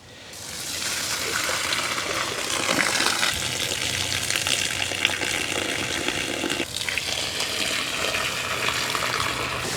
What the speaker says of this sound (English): my next step is to pour off the liquid. And you can see how dark the liquid is. And we will just dump that right on the ground.